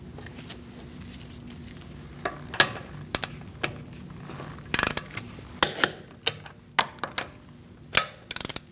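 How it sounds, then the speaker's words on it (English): Torque wrench tightening a wheel on a 2008-2014 Mercedes-Benz C300 to 96 foot-pounds in a star pattern, a run of sharp mechanical clicks and clacks growing more frequent toward the end over a faint steady hum. "We're going to torque our wheel to 96 foot-pounds."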